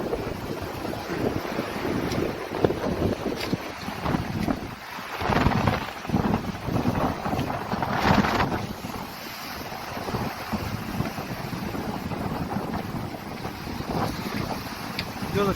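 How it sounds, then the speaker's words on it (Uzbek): A passenger ship arriving from Split on the Croatian coast, heard as steady wind buffeting the microphone over rushing sea water and a continuous low engine rumble. "Yadro liniya kemasi Splitdan kelyapti hozir."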